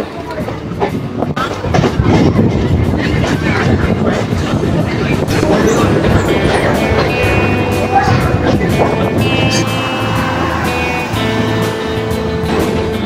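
A local train rumbles and clatters along beside the Ganges at Babughat, Kolkata, a loud continuous roar of wheels and carriages with rhythmic clicks throughout.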